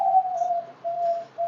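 A perkutut, or zebra dove, from a breeding setup gives soft, steady, close coos in a repeated pattern against a quiet background.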